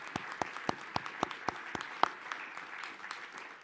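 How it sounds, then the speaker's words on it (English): An award ceremony audience breaks into applause, with a few sharp, separate claps standing out over a steady, moderately loud patter of hands that keeps going to the end. "I'd like to acknowledge her book with a round of applause."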